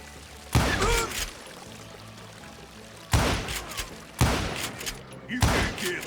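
Gunfire from the Western shooter game Call of Juarez: Gunslinger, with three or four loud, sharp bursts of shots separated by quieter stretches of low background sound.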